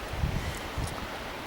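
A fierce east-northeast wind blows outdoors in a hollow beside a sycamore tree, a broad, steady rush with mic buffeting and faint rustling that stays fairly soft and continuous.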